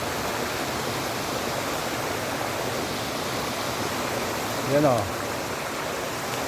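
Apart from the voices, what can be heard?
Daranak Falls waterfall in Tanay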